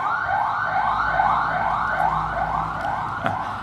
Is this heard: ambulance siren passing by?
yes